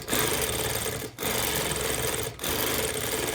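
A1 Platinum longarm quilting machine stitching a McTavishing fill in full stitch regulation mode, a fast, close mechanical whir broken by two brief stops where the needle halts.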